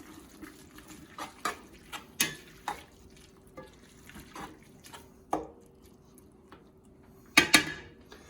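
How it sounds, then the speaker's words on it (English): A spoon works through a pot of chili in a kitchen, giving sparse, irregular clinks and wet knocks, a few sharper scrapes standing out against a quiet background, with no talking. "let's stir it up first"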